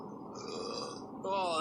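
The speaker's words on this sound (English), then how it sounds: "that's a seltzer burp right there, bro" A man lets out a short, throaty burp after drinking seltzer, fairly close, with a voice or laugh rising over its end.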